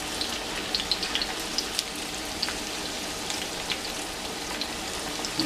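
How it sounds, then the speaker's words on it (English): Onions and hamburger patties sizzle in a pan, a steady, even frying hiss dotted with small pops and crackles, with no talk. "let the onions kind of sweat again with our patties"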